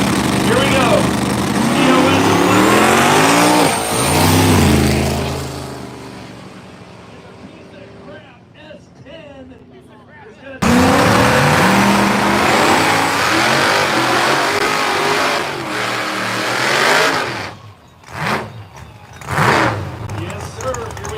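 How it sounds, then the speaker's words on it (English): A 1981 Chevy Malibu wagon with a ProCharged big-block engine at a no-prep drag race, loud and close, roaring as it revs hard and launches, cutting out abruptly, then surging again in sharp bursts before trailing off. "let's bring the 1981 Chevy Malibu wagon back again with a big block Pro Charge"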